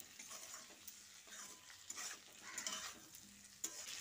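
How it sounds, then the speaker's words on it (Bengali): Cauliflower and potato are stirred in a pan with salt, turmeric and chili, with faint sizzling under soft scraping and turning strokes at low volume. "এবার নুন, হলুদ আর লঙ্কাটা দিয়ে কপি ও আলুর সঙ্গে ভালো করে মিশিয়ে নিচ্ছি।"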